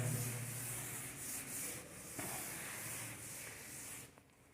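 Writing is rubbed off a classroom board with steady, close scrubbing and hissing strokes, fading near the end, with no talking.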